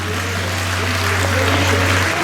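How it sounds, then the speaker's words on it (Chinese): Applause from a church congregation at an anniversary thanksgiving dinner, a steady wash of many hands clapping together throughout, with a low hum underneath. "我们再次拍手来谢谢他们哦"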